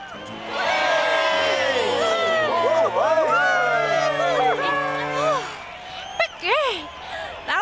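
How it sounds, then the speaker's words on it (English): A cartoon crowd cheering for Olive's bike stunt, a loud sustained swell of whoops and shouting voices that fades near the end into a few separate high calls. "Listen, the crowd love you."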